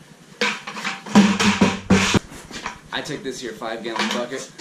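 A 5-gallon bucket knocks and clatters as it is handled, several sharp hollow bangs in a row, then lighter rattling with someone talking over it.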